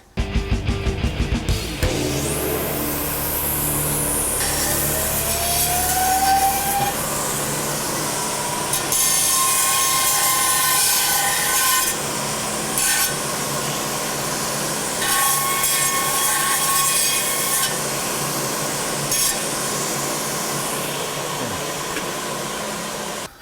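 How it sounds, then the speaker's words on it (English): An angle grinder spins up and grinds raised ridges off a metal boat propeller, a loud, steady, hissing whine that runs unbroken for over twenty seconds, close by with no talking. "So I'm just going to grind them down real quick so they don't bother me on the pitch block."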